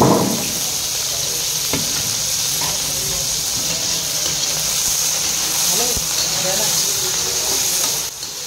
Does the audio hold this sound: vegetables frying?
yes